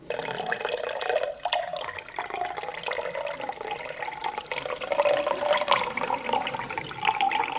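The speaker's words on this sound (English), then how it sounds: "I'm only pouring you one. Here goes." A drink is poured into a tall glass in a steady, continuous liquid stream that runs for several seconds at close range, with no talking over it.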